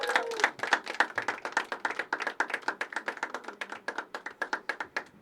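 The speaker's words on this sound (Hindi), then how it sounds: "जोरदार तालियां एक बार करण के" Audience at a poetry open mic claps for a performer named Karan, a fast, even run of close, crisp handclaps lasting the whole stretch with no talking over it.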